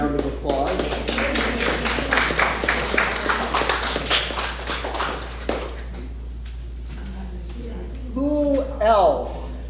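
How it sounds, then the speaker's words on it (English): Audience applause at a kindness workshop with seniors, a burst of hand clapping for several seconds that thins out, then people talking near the end. "I think that deserves a round of applause."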